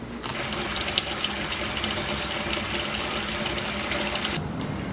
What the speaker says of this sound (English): So we filled our bucket with hot water.